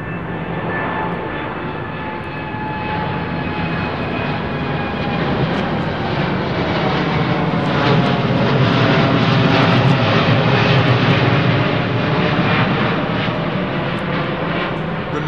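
A jet airliner departs from runway 09R at London Heathrow Airport, its engines giving a loud, sustained roar that builds slightly and holds for the whole stretch.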